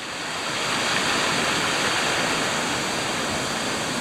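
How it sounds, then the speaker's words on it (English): A steady, broad rush of a mountain brook in the White Mountains, heard close by from a bridge, continuous and loud with no voices. "looking down at the brook over there."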